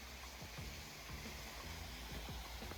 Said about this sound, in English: The water is sped up and we hear something falling